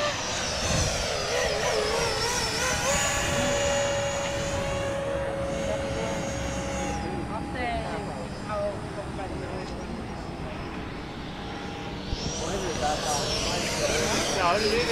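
An E-flite F-16 model jet flies overhead at a model aviation day event, its ducted-fan whine rising and falling as it passes, with people talking nearby.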